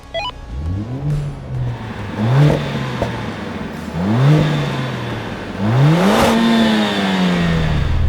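A car engine is blipped in a sound comparison, three or four sharp revs that each rise and fall back, loud and near, with no talk.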